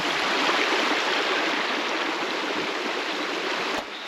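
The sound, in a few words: spring-fed creek flowing, Caney Creek, Arkansas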